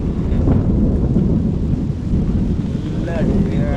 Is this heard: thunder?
yes